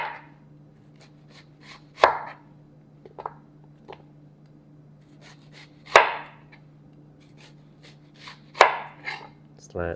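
A knife slices onions into rings on a cutting board, making a few distinct crisp cuts spaced seconds apart with lighter taps between them, close and otherwise quiet over a steady low hum.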